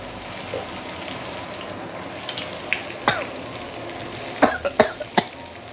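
Several dry, throaty coughs come in a cluster near the end, set against a quiet background sizzle while ikan bakar grills at home with chili.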